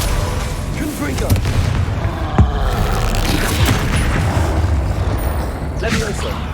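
Booming spell blasts from the Confringo fire spell in the Hogwarts Legacy video game, a dense run of explosive thuds and crackling impacts with one sharp hit standing out, loud and continuous under faint voice.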